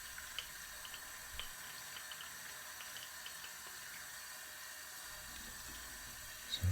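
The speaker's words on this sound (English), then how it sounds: "the method that I use is hot running water, a sponge, and a brush" Hot water runs steadily from a tap during dishwashing, a soft continuous hiss and trickle with occasional faint drips, close and even throughout with no talking.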